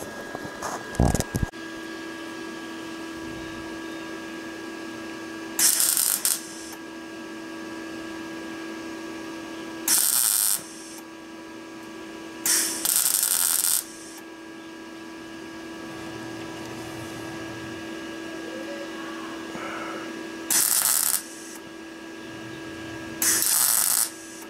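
Short bursts of a power tool, likely a grinder or wire wheel, clean the metal of a Ford Mustang front bumper before welding. Five or six brief loud spurts rise over a steady workshop hum, with quiet gaps between them and no talk.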